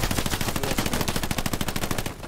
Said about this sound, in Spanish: Nos disparan por la izquierda, nos disparan por la izquierda.